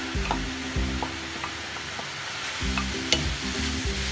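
Hotdogs frying in a pan for no-bake macaroni, a steady close sizzle with scattered light taps, no voices.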